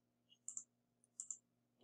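Quiet mouse clicks made while testing tabs in the Pinegrow web editor, heard as two pairs of crisp double clicks in near silence, with a low steady hum underneath.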